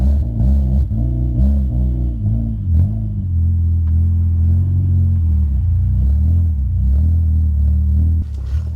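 A car's engine revs hard and steadily in deep snow the day after a blizzard, a loud continuous low rumble with surging throttle as the wheels strain, no voices over it.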